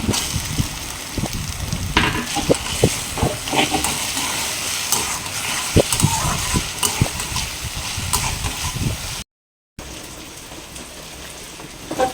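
Tomatoes go into a hot pan with ginger and green chilli paste for vegetable khichuri, making a loud, steady sizzle with stirring scrapes throughout and a brief gap near the end.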